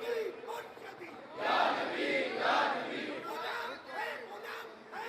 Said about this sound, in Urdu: ذرا سیدی مرشدی ایک باری نعرہ مارنا